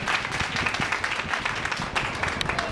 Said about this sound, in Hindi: मैं पहले आप सबसे एक जोरदार ताली चाहूँगी आप सबकी माँओं के लिए।